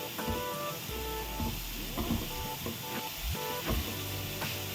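Raw onion frying in a pan for raw banana sabji, a steady sizzling hiss with scattered crackles and scraping stirs, close and continuous beneath faint background tones.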